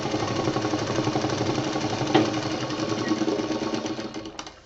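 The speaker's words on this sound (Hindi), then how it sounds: "ये देखिए 2-2 अंगुल के बीच में ये हमारा पूरी सीधी सिलाई कर देनी है" A sewing machine runs steadily, stitching straight parallel lines across a quilt with a fast, even mechanical whir that carries on almost without a break and eases off at the end.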